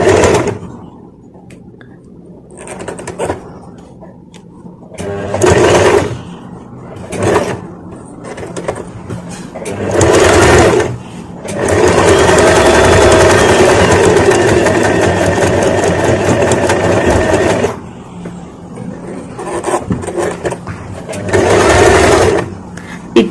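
A sewing machine stitches a buttonhole in loud mechanical whirring bursts of varying length, the longest running steady for several seconds, with quieter pauses and brief speech between runs.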